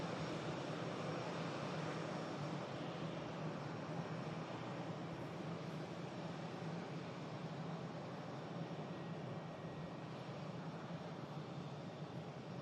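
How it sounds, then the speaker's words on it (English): A Qatar Airways Boeing 787 Dreamliner taxis out, giving a steady, distant jet engine rumble and hiss that holds at an even level, with no voices. "There's a Qatar Dreamliner on the taxi out."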